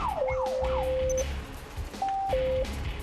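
A Korean fire truck answering a call winds down its wailing siren, then sounds long steady horn-like tones that step between two pitches, loud and close over road rumble.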